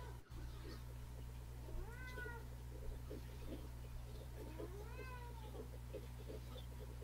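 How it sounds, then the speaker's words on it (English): A house cat that wants to be let outside meows twice, two drawn-out rising calls a few seconds apart, fairly faint over a constant low hum. "Sorry, my cat wants out."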